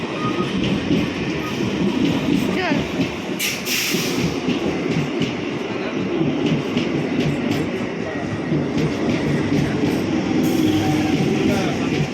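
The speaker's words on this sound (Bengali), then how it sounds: "ট্রেন চলে এসছে, এবার উঠে পড়ব।" A train pulls into a station platform on a hot day, a loud continuous rumble of wheels and rolling cars filling the whole stretch, with a few brief squeals and clatters and no clear talk.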